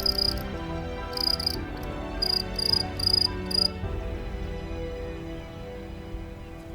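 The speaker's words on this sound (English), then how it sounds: "Grasshoppers and crickets belong to a group of insects called the Orthoptera." Summer grasshoppers and crickets chirp in short, high, buzzing bursts, grouped in irregular clusters over a soft outdoor background, moderately near, then falling away to quieter ambience.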